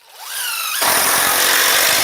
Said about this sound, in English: I'm just going to throw a couple screws so it doesn't fall over